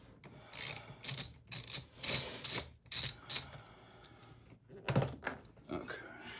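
Ratchet wrench loosening a bolt on a Fiat 500c engine, a series of quick close clicking bursts in a steady back-and-forth rhythm, followed by a few softer mechanical knocks.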